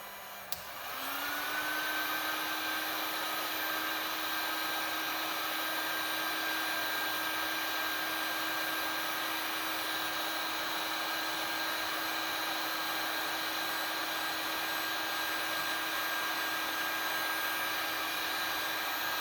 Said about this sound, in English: hooked up my heat gun. We'll just go ahead and melt that heat shrink to it.